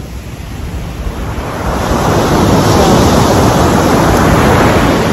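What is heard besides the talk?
big ocean waves on a beach in Mexico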